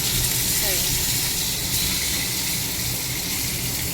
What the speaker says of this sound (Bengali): এই যে মাছ ভাজাটা এখন নামাবো